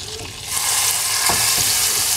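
Steady, dense sizzling of minced meat frying in olive oil in a pot, a constant bright crackle with occasional stirring scrapes, close and fairly loud.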